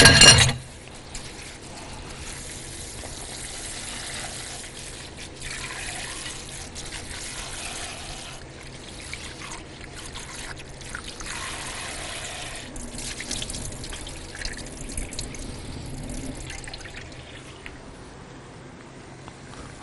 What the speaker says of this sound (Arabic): راح نغسل التمن